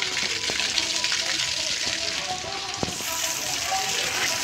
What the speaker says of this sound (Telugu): ఈరోజైతే మొక్కలకైతే నీరు పెట్టడం అవుతుంది